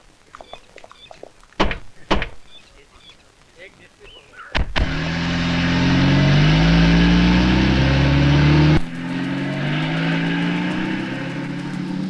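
A car door thunks shut a few times, then the engine starts and runs loud and close for several seconds before cutting off abruptly. Voices are faintly present at times.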